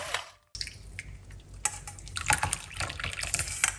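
Strained mint tea with lemon poured off into a vessel, a continuous splashing trickle with small drips, close and fairly soft, with no talking.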